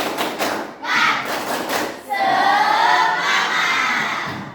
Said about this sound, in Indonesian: Tetap semangat, Allahu Akbar. Tepuk semangat.